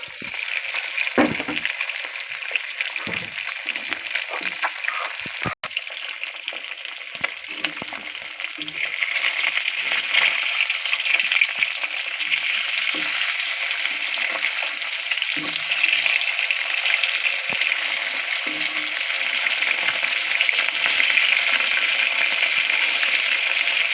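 Koi fish fries in a pan with a loud, steady sizzle and crackle throughout, broken by a few soft clinks and a brief sharp tap.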